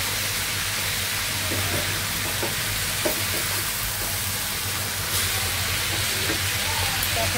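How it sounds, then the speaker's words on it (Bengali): Dal goes into hot oil and fries with a loud, dense, continuous hiss and sizzle, with faint clinks of a utensil underneath. "আর এখানে ডাল তেলে দিয়ে দিচ্ছি"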